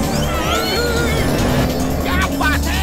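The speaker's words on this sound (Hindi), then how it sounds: "गाड़ी तो मक्खन की तरह चल रही है।" A cartoon car driving in a Hindi Motu Patlu animation, a steady loud engine drone throughout with brief sweeping tones, and voices briefly heard near the end.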